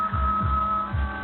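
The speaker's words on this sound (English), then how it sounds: "My own heart beating." A slow, steady low-pitched thumping, about two beats per second, with a faint electrical hum running underneath.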